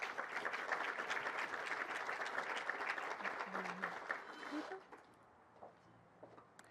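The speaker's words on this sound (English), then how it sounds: "So let's give her a big round of applause." Audience applause greeting the announcement of the 107th Rose Queen in Pasadena, a dense, even clapping from a crowd that holds steady for several seconds, then drops away abruptly to a quiet room with a few stray claps.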